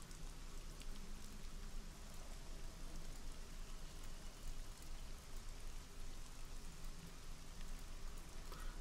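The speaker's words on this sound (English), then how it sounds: "you begin to hear a slight rain start to fall outside" Light rain drizzles steadily onto a barn roof, a continuous even patter that fills the whole stretch with no voices.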